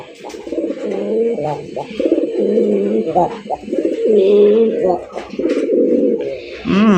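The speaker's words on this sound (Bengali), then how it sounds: "অস্থির কালারের কালারিং রাসগোল্লা কবুতর, আকাশি কালার জুটিওয়ালা চুইঠাল কলসি গলা" Rasgolla breed pigeons for sale cooing in throaty, rolling bursts close by, with someone talking over the birds throughout.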